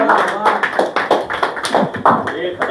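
An audience at a stage show claps for a singer, a loose run of sharp, close hand claps with uneven rhythm, while a voice talks over them.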